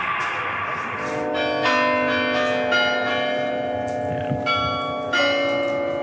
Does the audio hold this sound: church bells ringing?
yes